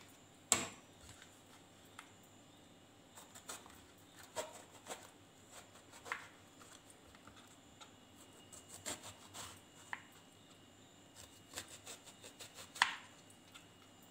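Knife cutting stuffed brinjal (eggplant) on a board in a home kitchen: faint, irregular taps and chops, some quick clusters and a few sharper strikes, close and quiet with no talking.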